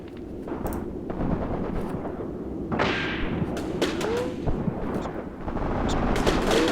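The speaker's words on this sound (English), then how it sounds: "are returning fire at the enemy, just standard rifle fire" Rifle and machine gun fire in the WW2 game Graviteam Tactics on the Mius Front: dense crackling gunfire with repeated sharp reports and dull thumps, continuous and loud throughout.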